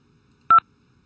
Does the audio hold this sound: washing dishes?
no